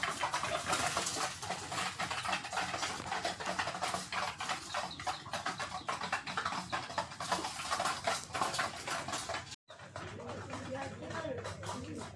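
A flock of pigeons coos in a dense, continuous chorus, close and loud, with scattered wing flutters. A voice talks over the birds, and after a brief cut the cooing continues somewhat softer.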